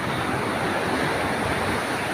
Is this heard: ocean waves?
yes